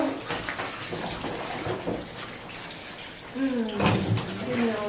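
Water splashes and runs over a husky during a bath, coming in uneven gushes and spatters while a person talks alongside.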